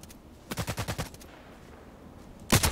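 Gunfire in the Contract Wars shooter game: a rapid burst of about five shots, followed after a pause by a louder, sharper burst at the end, all heard without talk.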